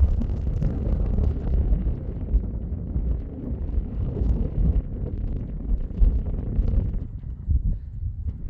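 Heavy wind buffeting the microphone on a high Himalayan mountain pass in Ladakh, a continuous low rumbling roar with gusty surges and no voices.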